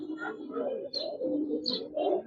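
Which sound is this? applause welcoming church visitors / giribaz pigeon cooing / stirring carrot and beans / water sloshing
giribaz pigeon cooing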